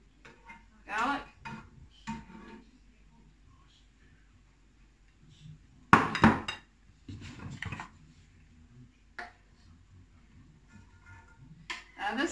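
Metal clatter of a cast iron frying pan and utensils with scrapes and taps, close by, as onion and garlic cook, in irregular bursts amid quiet stretches and some talking.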